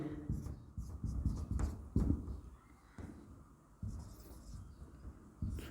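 Chalk scratching and tapping across a classroom board during a chemistry lesson, in short uneven strokes with a teacher's voice talking over and between them.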